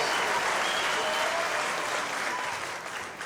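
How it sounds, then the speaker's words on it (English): Crowd applause for the boxers after a bout at a boxing event, a thick continuous roar of clapping mixed with cheering that fades slightly toward the end. "Let's give these fighters one last round of applause."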